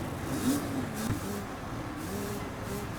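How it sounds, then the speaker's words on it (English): A 125 dirt bike sits on the start line in the motocross game MXGP 3, and its engine revs in steady, droning surges close by, with no voices. "If you're sitting on the line in this cutscene, you can rev the bike. Like, that's me revving the bike."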